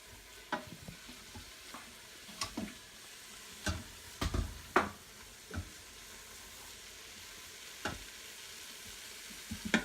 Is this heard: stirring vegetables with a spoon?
yes